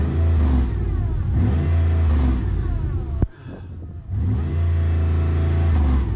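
A front-wheel-drive car with a swapped-in 5.3L V8 idles loudly and revs up repeatedly, the engine note climbing and falling with a short sharp drop and a brief lull before it roars steadily again.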